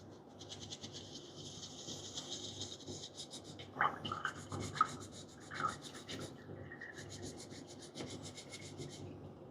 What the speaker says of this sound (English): So I will get my green color scrub, right? And I'm gonna scrub it.